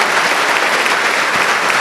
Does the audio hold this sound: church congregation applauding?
yes